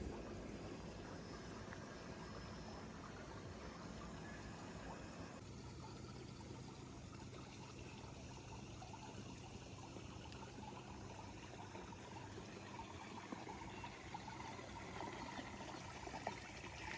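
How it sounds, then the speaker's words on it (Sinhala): Water flows steadily as a stream at an outdoor coconut-grove resort, a soft continuous trickle and rush heard up close, alone and constant throughout with no talking. "වතුර ගලාගෙන යන සද්දෙයි."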